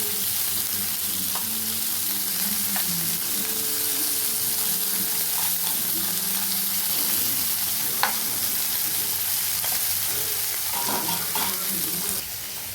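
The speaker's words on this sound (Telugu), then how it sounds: "కొంచెం ఆయిల్ వేసి ఇవన్నీ చేపలన్నీ వేపాలండి ముందు." Salted fish frying in hot oil give a dense, continuous sizzle that stays loud and close, with occasional clinks and stirring knocks and no talking.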